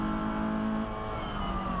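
A race car engine on track at Brands Hatch GP during a 750MC Roadsports race holds a loud, steady high-revving drone, its revs climbing unprompted toward the end.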